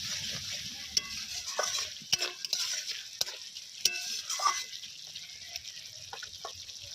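Spice masala for egg curry being stirred in a pan, a soft scraping and faint sizzle with a few sharp clinks of the spoon against the pan, steady and close.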